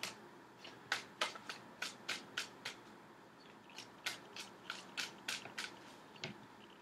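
Tarot cards are shuffled by hand in close, quiet, riffling bursts, a string of crisp flicks in two clusters with a short pause between them.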